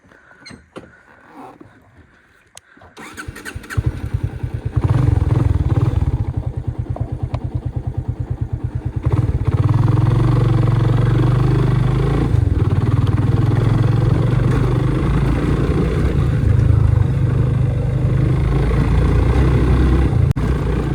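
A motorcycle rides over a rough, broken road, its engine running loud and close with a steady throbbing note and constant rattling and clattering over the bumps, after a quieter start.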